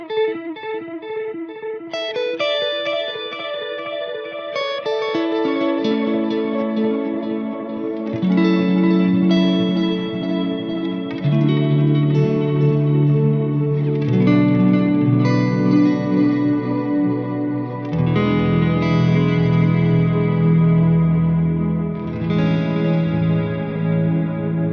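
An electric guitar runs through an El Capistan and a Timeline delay pedal together, slow chords and arpeggiated notes blooming into a wash of overlapping echoes that smear into reverb-like sustain, loud and continuous without any talking.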